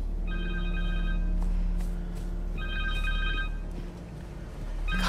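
A phone rings in the video game Spider-Man 2, two bursts of a bright electronic ringtone over a low steady background hum, with a brief gap between them and no speech.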